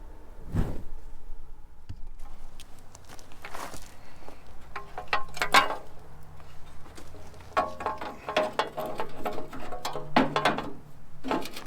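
A ratchet wrench changes the spark plugs on a 1946 Ford 2N tractor, giving close, crisp bursts of ratcheting clicks separated by short pauses, with no talk.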